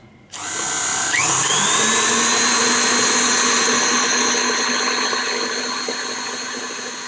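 An electric beater whipping egg whites for a Frangelico liqueur tiramisu, starting with a click and then a loud steady motor whine that holds close and continuous, easing slightly toward the end.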